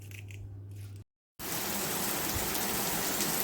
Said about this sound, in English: Oh, here it comes, here it comes. That's the rain.